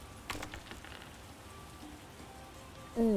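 Steady rain patters on surfaces in The Witcher video game, a soft continuous wash with a few brief sharper drops early on and a tonal game sound entering at the end.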